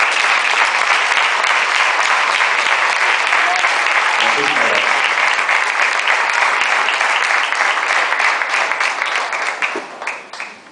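Loud, sustained applause from a large audience at a solemn Valencian ceremony honouring the Reina de l'Horta, a dense even roar of clapping that fades away at the end.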